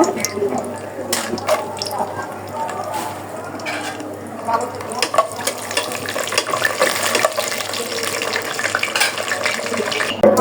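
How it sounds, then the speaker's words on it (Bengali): Cashews and raisins fry in oil with ghee, a soft hiss under stirring and scraping clatter, with occasional sharper knocks of a utensil against the pan; no words are spoken. "আমি প্রথমে কয়েকটা কাজু বাদাম আর কয়েকটা কিশমিশ আর কি ভেজে নিব।"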